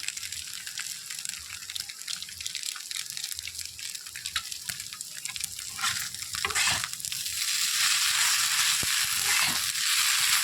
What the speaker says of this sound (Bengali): ম্যাগি মশলা ছেড়ে আবার নাড়াচাড়া দিয়ে দিতে হবে ভালো করে নাড়াচাড়া দেওয়া হচ্ছে